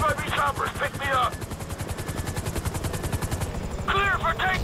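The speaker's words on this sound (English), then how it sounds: "FIB choppers, pick me up." Helicopter rotors from FIB choppers in Grand Theft Auto 5 thump in a rapid steady chop, mixed with bursts of game gunfire and brief shouted voices in a chaotic raid on the FIB headquarters.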